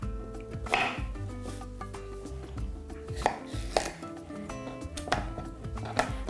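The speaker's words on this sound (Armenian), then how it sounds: "Կտրատում ենք մեկ թարմ վարունգ," A fresh cucumber being sliced into half-rings on a cutting board, several distinct knife chops landing at an uneven pace, close and crisp, with quiet scraping between strokes.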